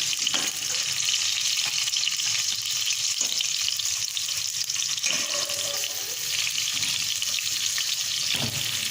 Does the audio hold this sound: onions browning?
yes